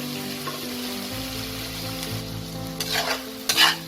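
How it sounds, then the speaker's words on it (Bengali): Onions and tomato fry in a pan for katla fish kalia, a continuous sizzle close by with a low hum underneath and a few brisk scraping stirs near the end. "টমেটোটাকেও আমি 1-2 মিনিটের মতো নাড়াচাড়া করবো যতক্ষণ না টমেটোটা আমার নরম হচ্ছে"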